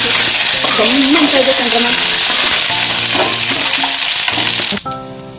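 Garlic, dried red chillies and curry leaves sizzle loudly in hot oil in a pan, with steady crackling and occasional stirring, while someone talks over it; the sizzle cuts off sharply near the end.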